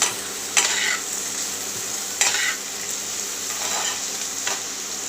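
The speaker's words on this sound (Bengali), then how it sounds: "আমি টমেটোটা দিয়ে এবার ভালো করে লাল লাল করে ভেজে নেব।" Tomato and onion sizzling in a hot pan with a steady bright hiss, while a spatula scrapes and stirs in about three distinct strokes.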